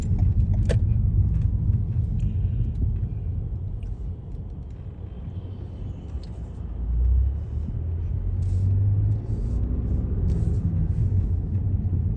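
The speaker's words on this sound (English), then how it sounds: "Let this car pass real quick." Low road rumble of a car passing by on a street in Overtown, Miami, swelling briefly midway, with steady traffic noise and faint clinks throughout.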